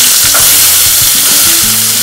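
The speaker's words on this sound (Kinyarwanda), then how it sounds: "isafuriya nashyizemo utuvuta dukeya, kare ubanzamo twa dupoivro" Bell peppers fry in a little oil in a pan, giving a steady close sizzle with soft stirring scrapes and clinks, with no talking.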